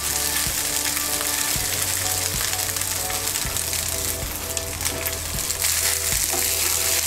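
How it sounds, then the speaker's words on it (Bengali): Cooked rice being stirred through spices in a hot pan, with a steady sizzle and repeated scraping strokes at a fairly even rhythm, close and continuous, no talking. "ভাতটাকে ভালো করে মিশিয়ে নেব।"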